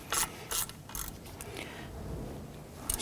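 Ratcheting clicks from snugging brake caliper slide pin bolts on a 1997-2006 Jeep Wrangler front brake, a few short bursts of close mechanical ratchet sound with quieter handling noise between.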